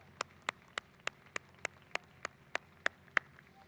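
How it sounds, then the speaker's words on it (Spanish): Slow, evenly spaced claps from a single pair of hands at a presidential speech, about a dozen sharp strikes at a steady rhythm, faint and without voices. "Un aplauso para ustedes que son compatriotas excepcionales."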